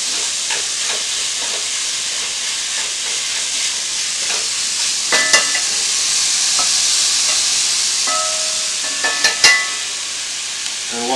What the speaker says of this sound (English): So I've got my meat roasting in there